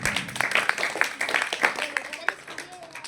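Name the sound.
students clapping for a student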